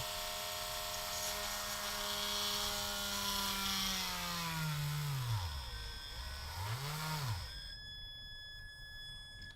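A power drill whines steadily, its pitch sliding down and swooping up and down before cutting out abruptly near the end.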